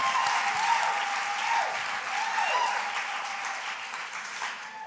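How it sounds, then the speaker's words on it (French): Sustained applause from a congregation at a church service, dense and steady clapping throughout, gradually easing slightly toward the end. "On applaudit le roi des rois."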